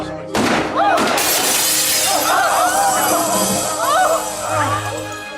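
Glass shatters loudly in a TV science-fiction episode scene, a sharp crash followed by tinkling shards and scattered debris over several seconds, with voices and background score.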